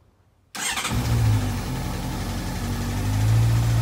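Silence, then a Honda CBF600SA motorcycle engine cranks and catches, settling into a steady, close idle with a low rumble that rises slightly toward the end.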